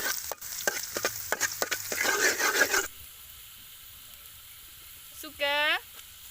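Garlic frying in oil while being stirred, for fried noodles with beef and mushroom: a loud crackling sizzle with rapid scraping strokes for about three seconds, then near silence before a short voice.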